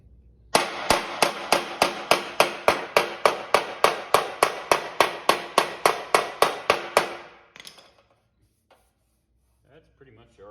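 Body hammers pounding the sheet metal of a cabover truck's front-end body parts. Some twenty loud, ringing, evenly spaced metallic strikes come close together, then stop, followed by quiet shop noise.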